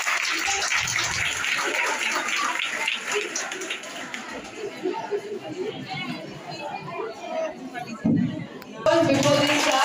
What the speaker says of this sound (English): a big round of applause for our class 2 and 3